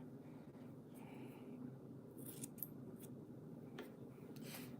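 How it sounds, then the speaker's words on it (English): Scissors snipping through nylon pantyhose for a crocheted hacky-sack cat toy, several short sharp cuts in uneven rhythm, close and quiet over a faint room hiss. "now we're going to take one of our pantyhose, take our scissors"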